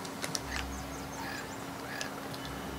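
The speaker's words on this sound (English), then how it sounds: "Chicken." Chicken clucking in the Outward video game, a few short faint bird calls scattered over a steady low ambient hum with no talk.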